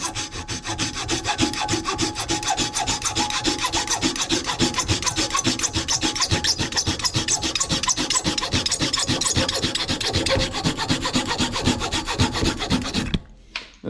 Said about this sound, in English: This is a tool that just uses a regular Sawzall blade.